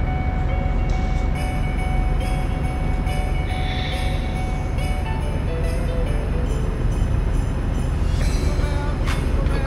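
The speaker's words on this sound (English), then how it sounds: "Another train crossing." A train rolling past a level crossing in Euro Truck Simulator 2, a loud continuous rail rumble with clattering wagons and a faint horn, heard close throughout with brief engine tones.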